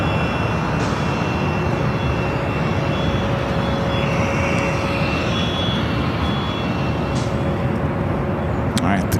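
A Boeing 747-8i in Korean Air's new livery taxiing at LAX toward the Tom Bradley terminal gives a steady, broad engine roar from a distance, with a faint high whine throughout and people talking over it.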